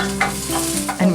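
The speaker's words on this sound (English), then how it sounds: "He'll be browning the onion with the garlic in the olive oil." Onion and garlic fry in olive oil with a brief, close sizzle and soft stirring scrapes over a steady low hum.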